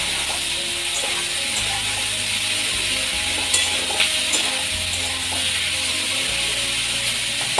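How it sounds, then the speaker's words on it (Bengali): Onions with green chili fry in a pan in a home kitchen, making a continuous close hissing sizzle over a low hum, broken by a couple of small clicks, with no speech. "পেঁয়াজগুলোকে একটু ভেজে দিচ্ছি"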